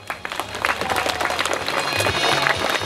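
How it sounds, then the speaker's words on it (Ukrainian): Crowd applause at a town-day festival in Irshava, honoring the blacksmiths, sustained and fairly close, with dense clapping and a murmur of voices across the whole stretch. "Давайте ще раз значними оплесками подякуємо нашим ковалям."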